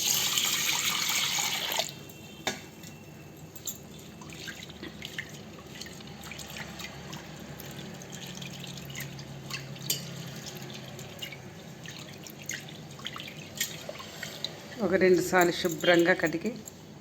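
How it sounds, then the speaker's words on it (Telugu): Water trickles and drips as toor dal is washed at a sink, soft and close, with a louder splashing burst near the end; a voice speaks over it. "ఫస్ట్ ఈ పప్పుని వచ్చి బాగా శుభ్రంగా కడుక్కోవాలి"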